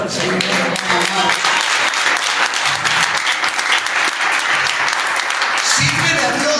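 A church congregation bursts into loud, sustained applause, dense clapping that fills the space with crowd noise throughout.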